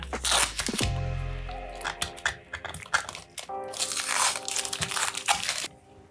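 Tape peels off an epoxy resin mold used for custom PS5 controller buttons, giving close crinkly, crackling tearing bursts in uneven spurts, some short and sharp, others drawn out.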